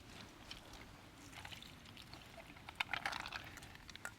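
Rinse water tipped off raw prawns, a faint short pour and splash with soft trickles, quiet and close.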